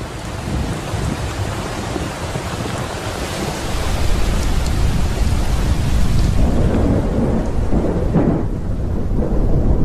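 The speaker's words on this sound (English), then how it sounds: "After 7 months, the rains are returning." Heavy rain pours down steadily in a storm, with a roaring wash of sound and deep rumbles of thunder swelling partway through.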